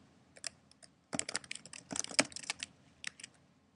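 Fingers type on a computer keyboard nearby in quick irregular bursts of light clicking keystrokes, with a short pause before a denser flurry of taps.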